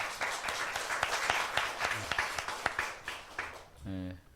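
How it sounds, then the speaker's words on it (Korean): Brief applause from a church congregation at a Wednesday worship service welcoming back a returning member, moderate clapping with a short tonal sound at the end. "우리 박수로 환영하시겠습니다"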